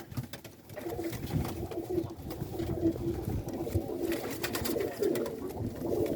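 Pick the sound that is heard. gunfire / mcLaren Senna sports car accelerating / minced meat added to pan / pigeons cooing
pigeons cooing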